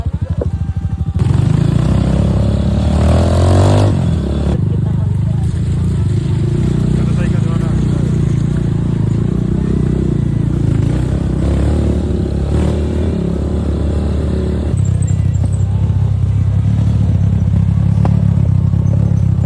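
A loud motorcycle engine runs close by throughout, rising and straining as riders push it along the Gingha River in Surigao del Sur, while people talk and shout over it.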